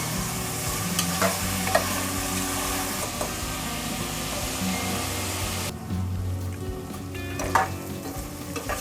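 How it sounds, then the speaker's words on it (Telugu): Tomatoes and onions frying and being stirred in a pan for a pressure cooker chicken biryani, a steady close sizzle with scraping stirs running throughout, slightly quieter toward the end. "ఈ టమాటా పూర్తిగా మగ్గే వరకు ఇది ఫ్రై చేసుకోవాలి"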